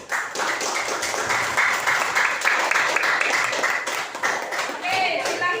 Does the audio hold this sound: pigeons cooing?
no